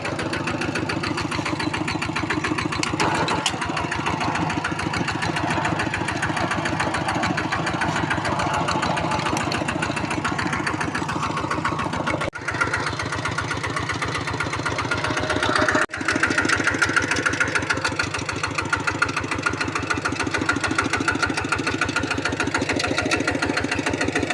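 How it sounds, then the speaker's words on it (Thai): A small single-cylinder walk-behind tractor engine, fitted with ten-wheel truck tires, chugs steadily and close up for the whole stretch, a loud rhythmic putter with no talking. "รถไถเดินตาม"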